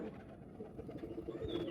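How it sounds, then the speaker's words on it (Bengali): Giribaz pigeons from Rajshahi cooing softly, a short low murmuring coo repeated a few times, faint and close. "রাজশাহীর বিখ্যাত গিরিবাজ কবুতর প্রচণ্ড বাজি করে।"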